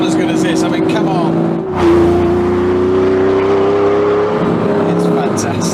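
A Ford supercar engine revs while driving on the road in France, a loud close drone that rises in pitch, drops at a gear change and climbs again, heard from inside the car.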